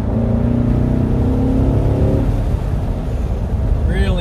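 A 2015 Corvette C7 Stingray engine revs hard through a roll-on, its loud, rising drone steady for about two seconds before shifting into a rougher, broader roar with some wind noise.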